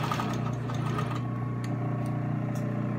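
A sewing machine stitches a bias strip of fabric onto a seam, its motor humming in a steady, close mechanical whir throughout, with light clicks near the end and no talking.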